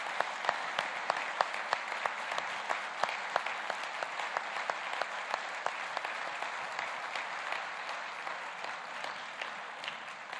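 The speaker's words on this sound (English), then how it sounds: "just with a little round of applause." A steady round of applause from a sizable church congregation, dense clapping sustained for about ten seconds with no talking over it.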